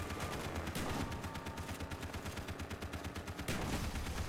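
Rapid gunfire crackles through a Call of Duty: Black Ops firefight, dense repeated bursts of shots that stop briefly near the end before resuming, loud and close with no voices.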